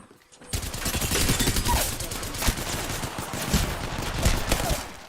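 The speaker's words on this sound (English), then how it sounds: "Getting shot at." Gunfire in a video game, a dense, loud, continuous fusillade of rapid machine-gun shots that keeps going for several seconds without pause.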